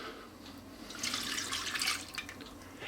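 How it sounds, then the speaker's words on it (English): About a cup of milk poured into a pot with melted butter makes a soft, close liquid splashing and trickling that builds in the middle and then tapers off, with no talking. "I'm going to add in 200 millilitres or about a cup of milk"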